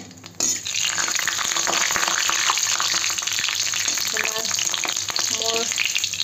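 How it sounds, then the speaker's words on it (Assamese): Finger chips frying in hot oil in a home kitchen kadai, with a loud, steady, close sizzle that continues the whole time. There is no talking. "তেলটো গৰম হ'লে ফিংগাৰ দি দিলোঁ"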